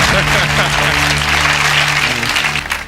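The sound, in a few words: applause and clapping on quiz show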